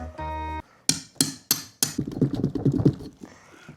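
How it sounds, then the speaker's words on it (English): A hammer strikes a pumpkin several times while it is being cut open, giving four sharp, close knocks followed by a rapid cluster of quicker, duller blows. "then we're gonna use the hammer to get in there"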